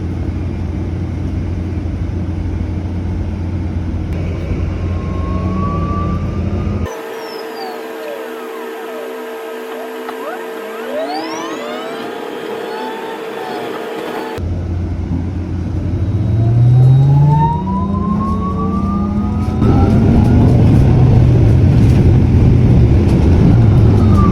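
A city bus rolls through Kuching with a loud, continuous engine rumble and rising whines as it accelerates and shifts, the cabin noise steady throughout and briefly changing character midway.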